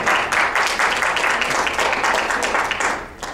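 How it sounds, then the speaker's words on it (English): Audience applause for a performer at a live rally event, a dense, continuous burst of many hands clapping, loud and close throughout the few seconds with a slight tapering toward the end. "Have another round of applause for Darren Woodbury."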